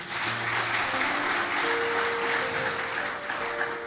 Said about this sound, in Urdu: زوردار تالیاں خداوند کے لیے